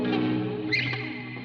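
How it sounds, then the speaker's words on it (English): Sustained synth tone drenched in maximum reverb mix, a dense washy sound with a brief brighter swell in the middle, heard alone and fairly loud throughout. "set this reverb mix to max, so you can really hear this"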